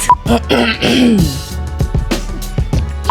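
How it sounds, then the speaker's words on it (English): A person loudly clears their throat with a rough, gravelly rasp, close up, followed by a few short vocal noises. "Clear your throat."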